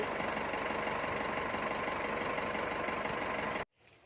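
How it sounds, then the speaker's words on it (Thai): Engine of a 2008 Titan Plus four-door pickup idling, a steady loud rumble with a fast even knock that continues until it cuts off abruptly near the end. "อันนี้คือขนาดที่สตาร์ทเครื่องไว้"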